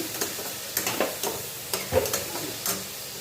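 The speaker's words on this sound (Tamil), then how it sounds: "தக்காளியோட ஸ்மெல் போகட்டும் நல்லா வதங்கட்டும்" Tomatoes sautéing in oil in a pan for Tirupati-style chutney, a soft background sizzle broken by several short scraping stirs of a spatula at irregular intervals.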